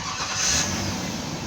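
A Ford Taurus engine with a repaired ignition fuse fault cranks and catches, settling into a brief steady idle rumble close by.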